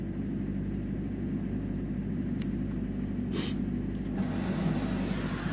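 A parked semi truck's auxiliary power unit runs while the main engine is shut off, giving a steady, unbroken low rumble and hum that holds throughout with little change.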